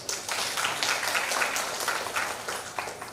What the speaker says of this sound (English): a round of applause to you all